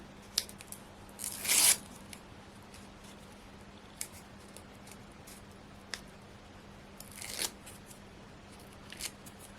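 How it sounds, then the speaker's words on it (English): Backing paper being peeled off craft pieces at a desk, with a few close, crisp tearing rips separated by quieter paper rustles, ticks and handling noises against a low steady hum. "Just peeling these backs off."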